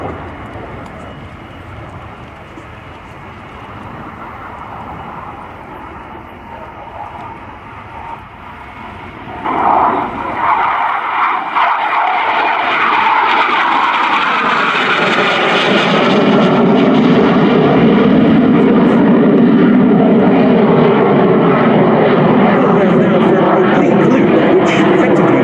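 Aerobatic aircraft making an inverted pass with an aileron roll, engine drone building from distant to a loud, close roar that sweeps past and sustains, heard over a commentator talking.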